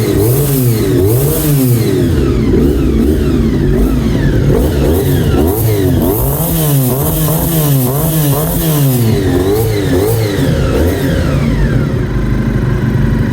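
A custom Honda VFR400 NC35 motorcycle with a Monkey exhaust is revved repeatedly close up, its loud growling engine climbing and falling in a series of rising sweeps before settling back toward idle.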